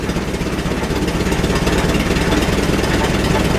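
An old Farmall tractor engine runs loud and close after years of sitting, revving up steadily in a continuous rough, throbbing drone without speech.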